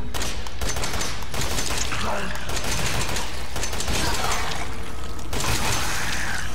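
Shotgun fire and dense combat noise in Resident Evil 7, loud and continuous throughout with repeated sharp blasts layered over rumbling game sound.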